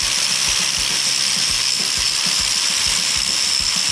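A grinder works over metal on an excavator tree shear, a continuous loud high-pitched whine with a steady rhythmic ticking underneath, close and uninterrupted.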